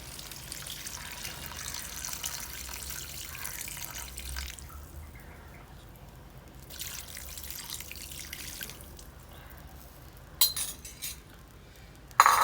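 Coconut milk pours into a home-made crab curry with a steady liquid splash that runs for several seconds, then fades, followed by a few sharp clinks of metal utensils near the end.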